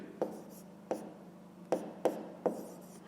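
Chalk or pen strokes from writing out a fraction sum of thirteenths for a fifth-grade math exercise, five sharp separate taps spaced irregularly over a quiet room hum, with no talking.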